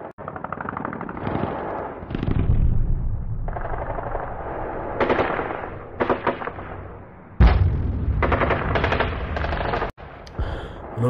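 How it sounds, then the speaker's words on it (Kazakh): Cannon and gunfire sound effects in a war museum exhibit, loud rapid bursts of machine-gun fire in several volleys with heavy booms, separated by short gaps and a sudden drop near the end. "Бул жерде пушка менен аткылап атабыз душмандарды."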